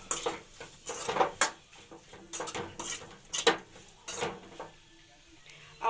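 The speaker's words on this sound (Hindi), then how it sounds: "अब मसाले को अच्छी तरह से चला लेंगे" Metal utensils scrape and clink against a pan as Maggi masala is stirred, giving irregular sharp taps and scrapes in short bursts, fairly close and moderately loud, with no talking.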